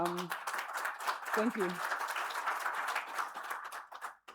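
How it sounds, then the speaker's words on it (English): Audience at a conference talk applauds with a steady wash of clapping that carries on for several seconds while the presenter speaks briefly over it. "so huge applause for Ape Factory for making this possible"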